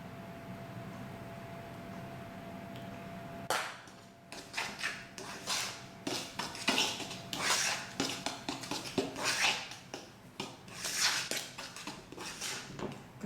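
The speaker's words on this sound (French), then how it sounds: "Je continue à bien mélanger." A spoon or whisk scrapes and clinks against a bowl while batter is mixed, after a short quiet start. The close, uneven strokes come in a loose rhythm of repeated scraping knocks.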